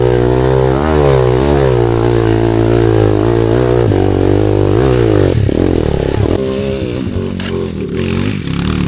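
Rusi 200 motorcycle engine revving on a dirt trail, loud and close, with rising and falling revs and a rough, clattering note that drops off toward the end.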